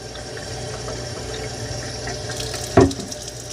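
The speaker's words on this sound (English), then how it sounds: "let's fill this up with water" Tap water runs steadily into the water tank of a MOVA M10 cordless floor cleaner, a soft continuous fill with a brief louder splash near the end.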